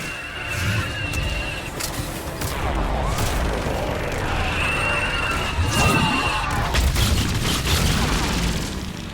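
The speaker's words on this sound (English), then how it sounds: "Missiles are hot." Missiles launching and exploding in Mass Effect 3 combat: a sustained barrage of whooshing launches, high tonal streaks and rolling blasts over several seconds, with sweeping pitch glides amid the din.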